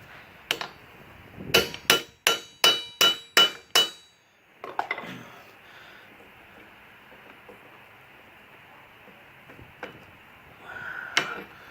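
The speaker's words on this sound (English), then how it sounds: "I'm going to use this socket right here, and I'm going to hammer it down." Seven sharp metallic hammer strikes on a socket driving a U-joint cap into a Jeep Cherokee driveshaft, in quick, even succession, followed by quieter clinks and scraping of tools on metal, close by.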